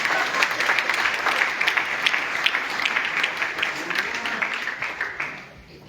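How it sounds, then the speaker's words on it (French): Audience applause for Marc during a national night of prayer, a crowd clapping briskly with some individual sharp claps standing out, loud at first and then tapering off near the end. "Applaudissez pour Marc."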